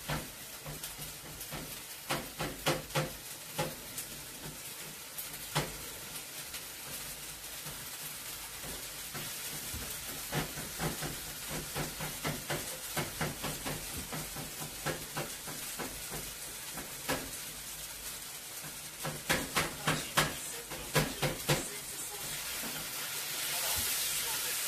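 Colombian arepas fry in a pan with a steady, quiet sizzle and hiss, broken by bursts of sharp crackles and pops that come and go throughout.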